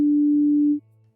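A pure sine wave tone holds a single steady pitch for just under a second, loud and clean, then cuts off to leave a faint low hum.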